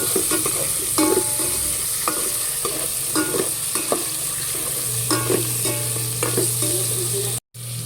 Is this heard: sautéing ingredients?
yes